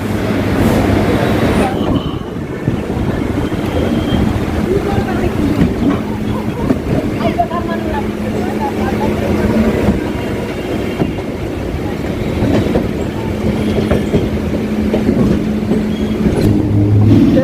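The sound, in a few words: Sealdah to BBD Bag train running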